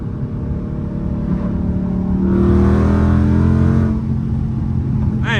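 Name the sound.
car engine accelerating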